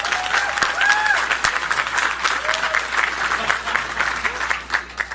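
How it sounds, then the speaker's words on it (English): Audience applause fills a room during a victory speech for Alan Wilson's governor campaign, steady dense clapping from a crowd with a few faint voices and whistles mixed in. "I would encourage you to applaud her."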